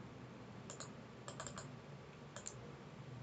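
A few faint computer keyboard keystrokes land in short clusters for a copy and paste, set against a quiet background hum.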